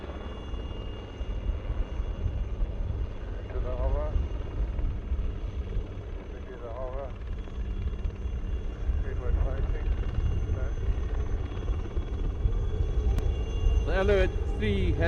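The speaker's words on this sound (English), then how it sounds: "Lekker laag wat hierdie helikopters aankom." Alouette 3 helicopters fly low past the crowd at an air show, a steady rotor rumble filling the whole stretch while a commentator speaks over it on the public address.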